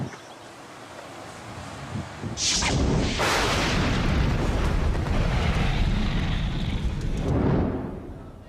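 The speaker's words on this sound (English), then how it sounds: "Это гром." A thunderous boom rolls in and swells into a long, loud rumble that fills the air for several seconds before slowly fading, with no voices present.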